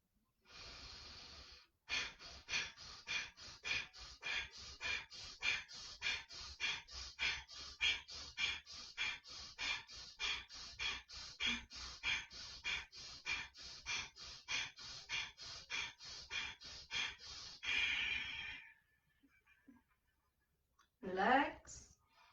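Steady rhythmic breathing for a deep breathing exercise of 27 breaths: quick forceful breaths in and out, about two per second, close and fairly loud, ending with a longer exhale.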